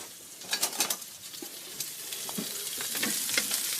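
Lamb chops sear in a very hot pan, a steady crackling sizzle with sharper pops and spatters scattered throughout, turned over partway; close and fairly loud, with no talking.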